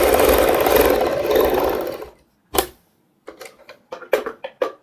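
Sewing machine stitching a kurti neck, running in a steady close whir for about two seconds, then stopping, followed by a few short clicks and taps of the machine being adjusted.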